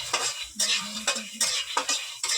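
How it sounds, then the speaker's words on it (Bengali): Peanuts are stirred and roasted in a kadai: a quick series of rough scraping, rattling strokes, close and fairly loud, with brief pauses between them. "বাদামটাকে একটু কড়াতে নেড়ে নেবেন"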